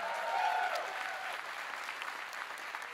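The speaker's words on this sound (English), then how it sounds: "How about a round of applause for our worship team once again?" Church congregation applauding the worship team after a song, dense steady clapping at moderate distance filling the whole moment, with a faint tonal trace of lingering music at the start.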